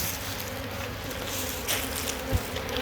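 A dense swarm of honeybees drones steadily from an open hive on a ranch, a close, continuous buzz with a brief bump or knock near the end.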